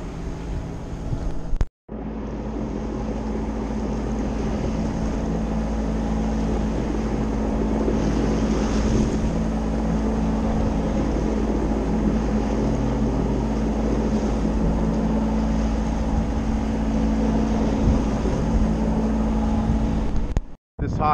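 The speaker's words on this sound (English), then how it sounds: "the belts are squealing now" High-output alternator drive belts on a boat engine give a steady squeal over a loud continuous engine rumble for about twenty seconds, cutting out briefly near the start and again at the end.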